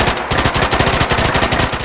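Rapid fire from an FN P90 in Fallout 4, a dense, loud, continuous burst of quick shots in a steady mechanical rhythm, with no voices over it.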